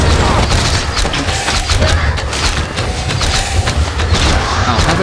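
Warcraft III Reforged battle, a dense clatter of booms, crashes and combat impacts layered over one another, loud and continuous, with character voices calling out.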